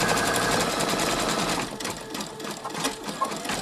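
A Brother Innovis 2800D sewing machine stitches an embroidery design, its needle hammering in a loud, fast, steady rhythm close by that eases slightly toward the end, with no voices.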